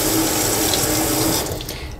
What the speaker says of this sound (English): we want to rinse the tea whisk out again